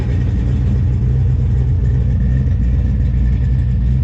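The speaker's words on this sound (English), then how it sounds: "cars are starting to come in" Cars arriving at an open house car show, heard as a steady, close engine rumble that idles and revs slightly for about four seconds without pause, with no talking.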